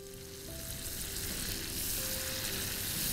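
Butter melting into hot caramel sauce on the stove, a steady, quiet sizzle and bubbling that swells slightly over three seconds, with faint tonal hums underneath and no voices.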